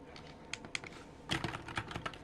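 Rapid typing on an Apex 9 TKL keyboard fitted with yellow switches, a close, steady patter of light key clicks with a few sharper strikes, heard alone without any talking.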